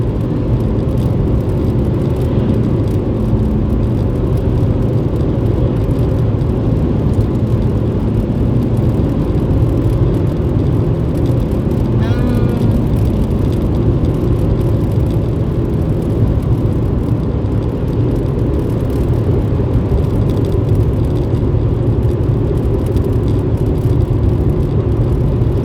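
Traffic on a town street in Canada makes a steady, loud rumble as cars drive past continuously, with engine and tyre noise layered throughout and no distinct pauses.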